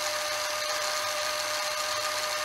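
An AEG brushless 5-inch angle grinder runs in a continuous high-pitched whine, steady and loud from start to finish, with no voices.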